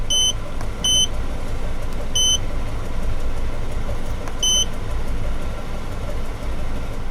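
A V8 engine runs steadily at a constant low rumble, loud and close, with a few short electronic beeps chirping over it; no distinct pops stand out, and nobody speaks.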